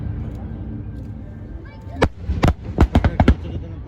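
Fireworks bursting over a Taiwan National Day celebration, a series of about seven sharp, loud booms arriving in quick succession after a quieter stretch of crowd murmur and distant talk.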